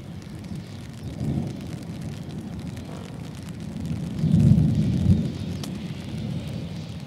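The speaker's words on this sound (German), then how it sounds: "Oha, jetzt lässt der Regen ja komplett nach." Thunderstorm with steady rain and a low rolling rumble of thunder that swells near the middle, fairly faint and without talk.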